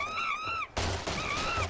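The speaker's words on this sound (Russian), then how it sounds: "Башню нам снесло." A crash of crumbling debris from a tower collapsing in the game Angry Birds bursts in after a brief pause, broad and noisy, preceded by bright whistling game tones that return faintly afterward.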